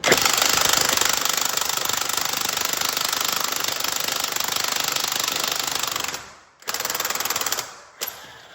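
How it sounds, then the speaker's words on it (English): A pneumatic impact gun hammers on car wheel lug nuts with a loud, continuous rattling burst that cuts off briefly near the end, then returns for a short spurt and a final brief hit. "The vibration of the impact gun is making your valve stem leak."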